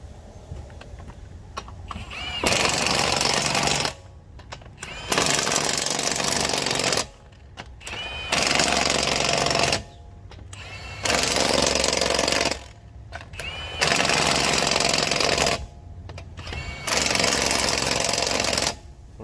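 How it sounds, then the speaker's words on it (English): Impact wrench on a Ford Ranger (2021) tightening wheel lug nuts at torque setting 2, six loud sustained bursts of rattling hammering, each about two seconds long, separated by short pauses, close up with no talking. "We're going to use this impact and put it on setting number 2, which has the right torque specs"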